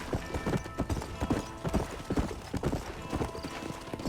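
Horse hooves clip-clop steadily at a trotting rhythm in the video game Red Dead Redemption, loud and close throughout, with little else over them.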